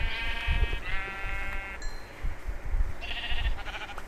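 Minecraft sheep bleat repeatedly in wavering, nasal calls, several overlapping, loud and close against a low rumbling background, at night in the game.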